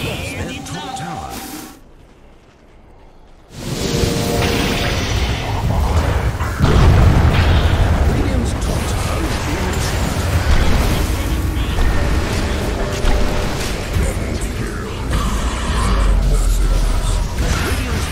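Dota 2 tower destruction: a short quiet gap, then a heavy booming crash that runs into sustained rumbling battle noise and pops, loud and dense, with an announcer's voice over it.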